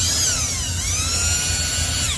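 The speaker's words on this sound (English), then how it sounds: "put this on your drill" Power drill spinning a dryer vent cleaning brush, a loud continuous whine with a steady low rattle and a slight dip in pitch midway.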